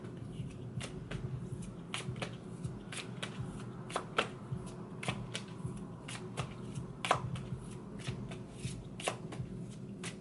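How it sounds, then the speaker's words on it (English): Oracle cards from an animal-themed deck are shuffled by hand at close range, giving repeated crisp riffling snaps at irregular intervals over a quiet room, with no voices. "I'm going to pull a card from the Secret Language of Animals Oracle."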